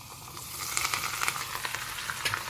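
Urad dal tempering fries in hot oil for rava idli batter, giving a soft, steady sizzle with scattered small crackles and pops close by and no talk.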